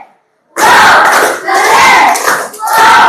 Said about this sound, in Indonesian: Berikan tepuk wow untuk mereka berdua.